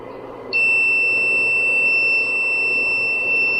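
A UPS sounds a steady, piercing electronic alarm tone that starts abruptly and holds on continuously at low battery voltage, around 10.9 volts, with undersized wires feeding it from the battery; loud and close over a low hum.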